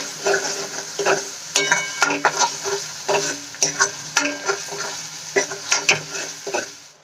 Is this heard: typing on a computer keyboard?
no